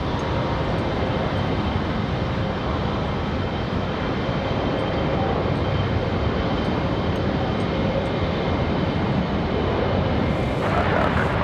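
A United Express jet departs Raleigh-Durham International for Newark, New Jersey, producing a long, even, wide-band roar at a constant moderate loudness without speech.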